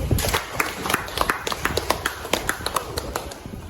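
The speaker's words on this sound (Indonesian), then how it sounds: "Kita beri tepuk tangan 1 kali" A classroom of students gives a quick, scattered round of clapping for a classmate's answer, with irregular sharp claps that are fairly close and moderately loud.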